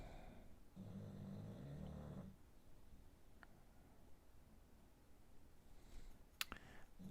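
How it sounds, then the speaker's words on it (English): A bulldog snores close and quiet: one long rasping breath in the first seconds, then faint room hush with a few small clicks and ticks. "That is my dog snoring."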